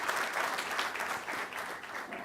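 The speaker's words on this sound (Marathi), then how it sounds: "एकदा जोरदार टाळ्या आपण त्यांच्या ब्रँड प्रॉमिससाठी करायला हरकत नाही" An audience at a business talk breaks into loud, sustained applause, a thick wash of overlapping claps that holds steady throughout.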